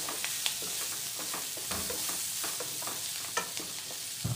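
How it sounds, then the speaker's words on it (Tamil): Spicy baby potatoes tossed with coriander leaves in a pan, giving a steady sizzle with short scraping stirs repeating at irregular intervals, close by and with no voices. "இப்போ கொத்தமல்லி கீரை போட்டு திரட்டி விட்டு இறக்கிடுங்க."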